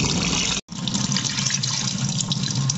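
Rice being rinsed by hand in water for chicken pulao: close, steady splashing and sloshing of water and grains, with a brief break near the start, and no one talking.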